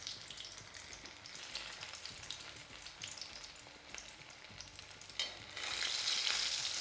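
Spinach koftas frying in oil over a very low flame give a soft, steady sizzle that hisses on without pause and swells louder toward the end, heard close and alone.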